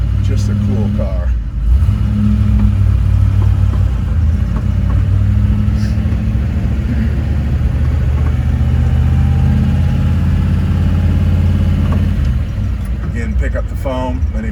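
A 1962 Chevrolet Impala SS convertible with a 409 V8 runs steadily up close, a loud, continuous low engine rumble that holds for the whole stretch with a brief dip near the end.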